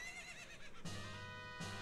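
Ganon's horse in the video game Ocarina of Time whinnies, a shrill wavering neigh followed by two sharp snorting bursts, clear and alone.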